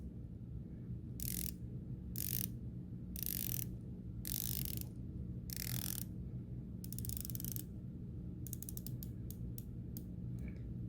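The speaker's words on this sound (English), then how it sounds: "So this is not a very clicky sounding turn action that we get with a lot of watches" A Seaholm Offshore watch bezel turned by hand, giving a run of soft, smooth ratcheting clicks in separate bursts, then a quicker series of finer ticks, all close up over a low steady hum.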